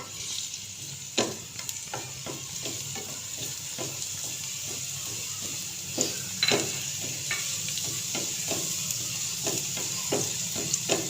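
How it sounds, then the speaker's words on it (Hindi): Garlic paste frying in a pan for potato raita, a steady soft sizzle with occasional sharper crackles and stirring scrapes, no talking. "इसके अंदर हमने लहसुन का पेस्ट डाल देना है। लहसुन की खुशबू आने तक हम इसे पकाएंगे।"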